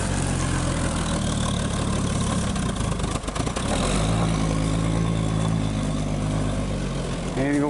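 A 1961 Dodge Lancer's engine running steadily at a low rumbling idle, loud and close, with a brief dip midway and a slight rise near the end.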